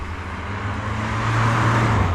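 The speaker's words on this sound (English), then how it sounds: "These cars speeding by." Cars speeding along a village road at night, heard as a loud, steady rushing engine and tyre roar that builds as a vehicle closes in, with no talking.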